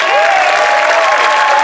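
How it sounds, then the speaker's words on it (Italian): Loud applause from one section of the audience at a live Miss Toscana 2022 pageant show, a dense continuous clatter of clapping with a faint steady tone running beneath it. "Fate un applauso solo voi da questa parte."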